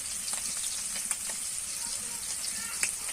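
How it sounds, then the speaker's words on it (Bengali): Rui fish frying in hot oil for a traditional Bengali fish curry gives a steady, close crackling sizzle throughout, with a few sharper pops standing out and no voices. "আমি মাছগুলোকে ভেজে নিচ্ছি"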